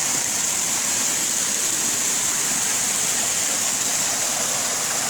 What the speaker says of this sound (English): Look at all that delicious water.